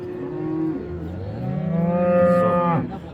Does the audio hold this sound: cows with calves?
yes